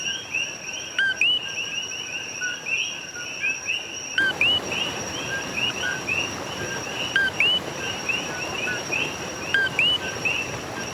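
Small coqui frogs in Puerto Rico repeatedly give sharp two-note chirping calls, several overlapping at close and middle distance, over a constant high insect hum.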